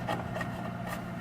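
A hand chisel pushed without a hammer pares across the wood grain, giving a soft, close scraping rub in short strokes.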